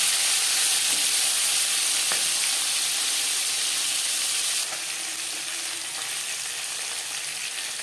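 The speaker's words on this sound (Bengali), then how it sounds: "4 চামচ রিফাইন্ড অয়েল গরম করে নিয়েছি। এবার দিয়ে দেবো ম্যারিনেট করে রাখা মাছ।" Marinated Bhola fish fries in four spoons of hot refined oil, a loud close hissing sizzle that runs steadily and eases slightly partway through, with no one speaking.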